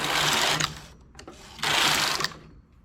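A knitting machine carriage makes two quick swishing, clattering passes as it knits a ribbed summer blouse, each pass loud and close, separated by a short pause.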